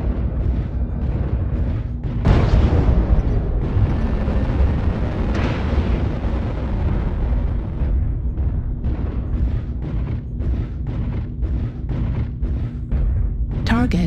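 Artillery strike explosions in the MechWarrior Online game, heavy booming blasts with a big burst early on and repeated rumbling impacts layered over continuous battle noise, while a synthetic voice speaks over them.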